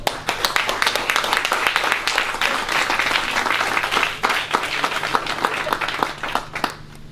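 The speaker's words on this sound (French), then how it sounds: "je tiens à vous applaudir, vous, déjà" Sustained applause from a crowd at a Téléthon thank-you gathering, dense rapid clapping with a few sharper individual claps standing out, continuing steadily for about seven seconds.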